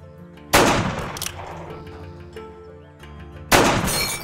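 Two loud gunshots cracking out in a Western shootout, the first about half a second in and the second near the end, each ringing off into a long echoing decay with a faint clatter between them.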